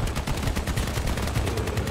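Dense, continuous gunfire from combat in the vehicle battle game Crossout, with rapid overlapping shots that stay loud and steady throughout the burst.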